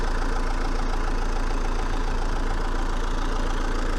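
A Renault 1.9 dCi diesel engine idles steadily after a broken high-pressure fuel pump was replaced, a dense, even mechanical drone that holds without a break.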